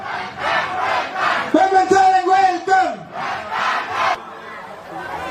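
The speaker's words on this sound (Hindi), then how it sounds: "सब मन जोरदार ताली।" A large crowd at a political election rally for Hemant Soren in Assam roars and shouts loudly, with a sustained tonal cry rising over the din midway before the cheering continues.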